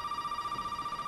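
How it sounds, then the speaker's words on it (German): A telephone rings in the video game Resident Evil 7, a steady, faint electronic trill pulsing in quick regular bursts, heard alone. "Telefon! Ich glaube, wir sollen ans Telefon gehen."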